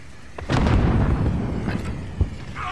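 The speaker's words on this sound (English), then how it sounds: "Throwing a flash!" A flashbang grenade goes off amid gunfire in Call of Duty: Modern Warfare, a loud booming burst followed by a sustained rumbling roar with a sharp pop near the end, no talking.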